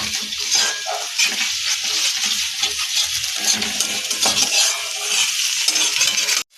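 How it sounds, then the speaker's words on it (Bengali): An egg frying in oil in a pan, a loud, bright, continuous sizzle with occasional metallic spatula clinks, ending abruptly, no talking. "ডিমটা আমি সুন্দর করে আগে ভেজে নেব"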